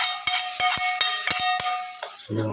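Buttermilk mixture being stirred for Tamil curd kulambu, a spoon knocking against the vessel in a quick run of separate scrapes and taps, close and clear, with no talking.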